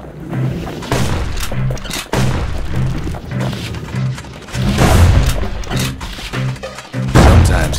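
Firearm shots from the video game Bastion, loud and steady, firing as a repeated rhythmic burst of gunfire and thuds over pulsing game music, with heavier booms near the end.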